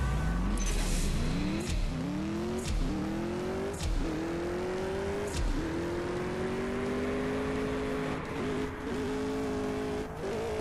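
Engine of a small Porsche racing car in the CSR2 racing game, revving hard and climbing through repeated gear shifts in a steady, loud, continuous drag-race acceleration with no talk over it.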